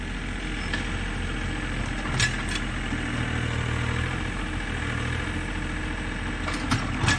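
A tractor engine runs steadily on a farm, a continuous mid-pitched idling drone with a few brief knocks, and no talking over it.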